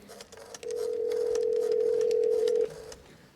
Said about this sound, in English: went to the phone and dialed